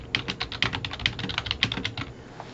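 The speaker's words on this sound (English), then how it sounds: "then I'd have that blank line and I could type another paragraph again" Fingers type on a computer keyboard in a quick, uneven run of close, crisp key clicks and taps lasting a couple of seconds, with no talking.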